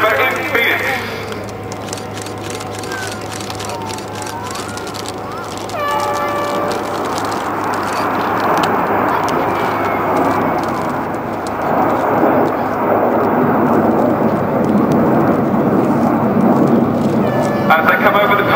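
Red Arrows jet aircraft pulling up in display formation at the 2010 British Grand Prix, a loud sustained roar that builds and rises in pitch. A commentator speaks over it on the public address throughout.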